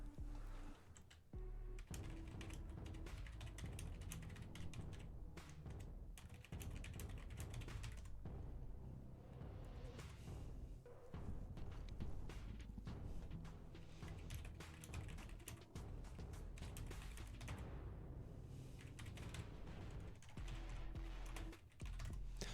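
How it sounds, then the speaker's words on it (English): Rapid, frantic typing on a computer keyboard during an Overwatch 2 esports broadcast setup, dense clattering keystrokes running nearly continuously over a steady background hum, close and fairly loud throughout. "You hear me frantically typing as I'm trying to figure things out."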